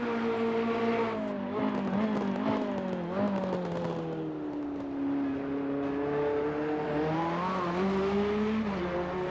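A Ferrari 488 race car engine in the racing game Assetto Corsa Competizione revs up and down through the gears, a steady loud drone rising and falling with crackles on the shifts.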